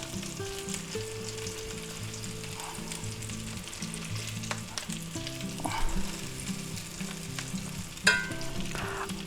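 Parmesan-crusted pork chops fry in a hot pan with a steady, close crackling sizzle, broken by occasional scrapes and clatter of a utensil as the chops are moved, with a sharper clink near the end.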